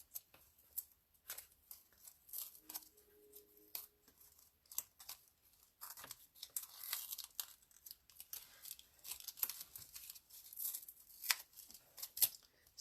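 Paper backing being peeled and torn off foam rubber stamps, a series of close, soft crinkling and tearing sounds in uneven bursts with quiet gaps.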